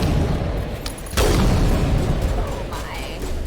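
Bombs explode in Mass Effect Legendary Edition: a heavy boom bursts out just past the first second, then a rumbling wash of noise with scattered pops continues, loud and close.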